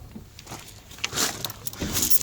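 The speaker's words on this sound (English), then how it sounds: "Get our keys moved around." Car keys jangle near the ignition of an old muscle car before a cold start, giving several soft metallic rattles and clinks in short irregular bursts over a quiet background.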